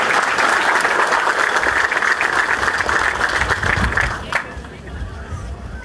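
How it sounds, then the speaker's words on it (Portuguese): Sustained audience applause fills a ceremony for the inauguration of a CAEP special-actions police unit in Taubaté, loud and dense before thinning out near the end. "por favor, saúdam também com uma salva de palmas merecida Ortiz Júnior, grande prefeito de Taubaté."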